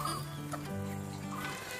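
Karinkozhi chickens cluck and call as they are let out of their coop, giving several overlapping, close clucks and drawn-out calls in a continuous flurry.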